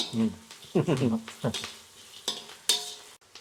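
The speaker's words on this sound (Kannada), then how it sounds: "ಇಲ್ಲಿ ಮೇನ್ ಆಗಿ ಈರುಳ್ಳಿ ಫ್ರೈ ಆಗ್ಬೇಕು." Onions fry with turmeric in a pan for lemon chitranna, with a soft sizzle broken by several close scraping stirs and clinks of a utensil.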